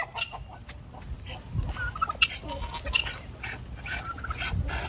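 Farm chickens cluck and murmur around a busy yard while eating treats, with scattered short calls over a steady low rustle and shuffling; no one speaks.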